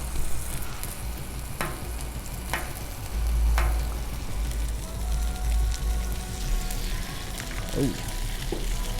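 An egg frying on a Blackstone griddle heated to about 300 degrees, a steady close sizzle running throughout with scraping and small clicks, while people talk over it.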